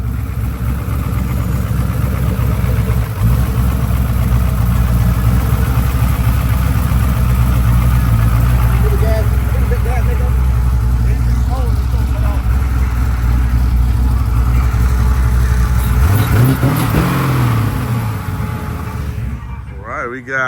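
A 1988 Chevy Caprice with an LS engine swap idles steadily up close, its low rumble continuous throughout with a brief rev swell near the end, while voices talk over it.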